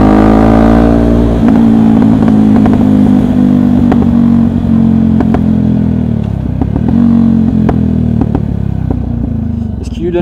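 A customised Yamaha WR125X motorcycle rides along, its engine a loud, close, steady drone with shifting revs and some mechanical clatter.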